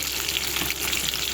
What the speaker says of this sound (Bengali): আজ দেখো আমি রান্না করছি, পটলের দরমা বানাচ্ছি